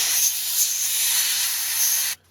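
A steady, loud hiss of compressed air blowing water off an airbrush for about two seconds, then cutting off abruptly.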